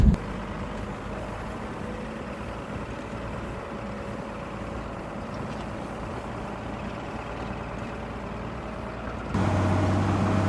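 An old 1948 Ford truck with a flathead V8 rolls slowly with a steady low rumble and crunching under the wheels, and it gets louder and deeper near the end. No one speaks.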